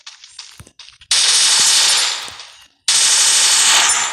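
Two long, loud bursts of rapid automatic gunfire from the video game Free Fire, close and harsh, separated by a brief gap, with faint earlier shots before them.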